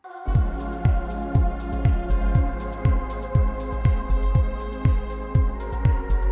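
Electronic music made on the Flite hybrid synth, with a steady, punchy kick drum thumping about twice per second under sustained, shimmering synth tones.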